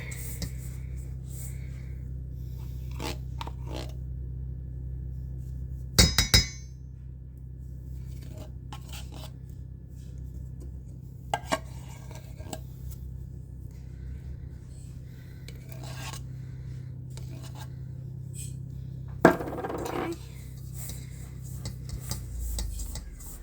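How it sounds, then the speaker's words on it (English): Spoon scraping and rubbing through Christmas cookie dough in a bowl, quiet irregular scrapes with a few sharper clinks against the bowl, no talking. "And you mix it all together."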